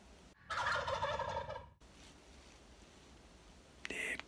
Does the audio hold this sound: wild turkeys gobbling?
yes